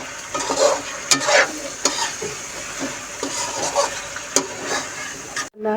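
Chicken karahi sizzles and fries in a pan over high heat, a steady crackle broken by sharp scraping stirs at irregular intervals.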